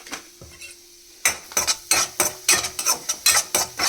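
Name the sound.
semolina being stirred and roasted in a pan for halwa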